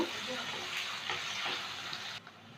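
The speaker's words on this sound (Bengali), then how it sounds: "দিয়ে দিলাম দুটো পেঁয়াজ কুচি। পেঁয়াজটাকে একটু ভেজে নেব।" Chopped onions fry in a pan after cloves, producing a continuous bright sizzle with a few gentle stirring swishes, fairly quiet and close, before it cuts off abruptly near the end.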